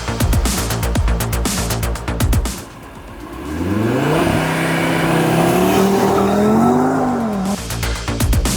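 A 2022 Audi RS 3 Sportback with a 2.5 TFSI engine, quattro and S tronic gearbox drives on the road, its engine revving and rising through the gears loudly and close, with crackling bursts between shifts.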